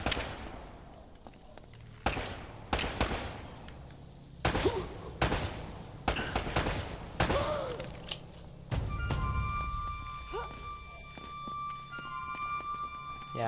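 Gunfire in Uncharted: Drake's Fortune, with a series of sharp single shots at irregular intervals, close and punchy, followed by a steadier mechanical hum.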